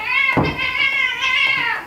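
A house cat meows indoors in a drawn-out, wavering call with a second rising meow near the end, loud and close with no talk over it.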